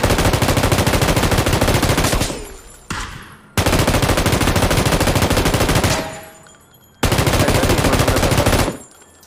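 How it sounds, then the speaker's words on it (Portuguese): Three long, loud bursts of rapid machine-gun fire, each cutting off abruptly with a brief pause between sprays. "Mano, olha esse spray de Rambo"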